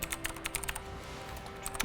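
Rapid, irregular clicking of keys on a computer keyboard as code is typed, close and fairly quiet, with bursts of keystrokes and brief pauses over a faint steady hum.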